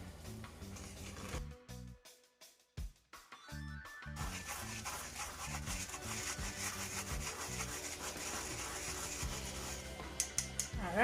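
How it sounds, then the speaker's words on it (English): Flour for a Jamaican black fruit Christmas cake is sieved by hand, giving a close, rhythmic rubbing and scraping with a short pause partway, then continuing steadily to the end. "Now we're just gonna sieve this. Sieving it like let the flour"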